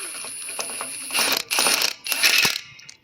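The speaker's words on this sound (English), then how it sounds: "filming and using the impact with one hand makes it a little bit trickier" An impact wrench tightens trailer jack bolts in short rattling bursts, loud and close, with a few brief pauses between hits.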